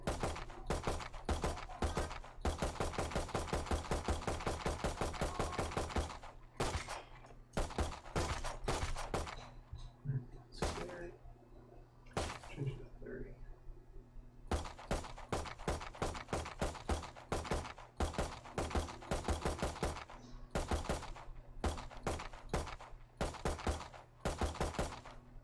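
Gunshots from the video game Valorant fire in long bursts of rapid, sharp shots, broken by a few pauses and quieter stretches, each burst loud and close.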